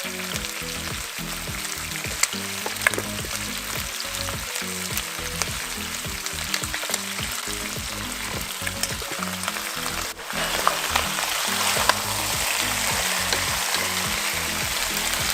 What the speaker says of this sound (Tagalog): I continue mixing it.